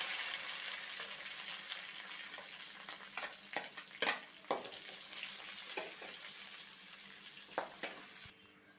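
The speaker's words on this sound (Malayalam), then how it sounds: "ഇനി ഇതിലേക്ക് നമുക്ക് ചുവന്ന മുളക് ഇട്ട് കൊടുക്കാം കറിവേപ്പില ഇടാം ഇനി ഇതിലേക്ക് സവാള ഇട്ട് കൊടുക്കാം" Onion, red chillies and curry leaves fry in hot oil with a steady close sizzle, punctuated by several sharp scrapes and stirs of a spatula, the frying cutting off abruptly near the end.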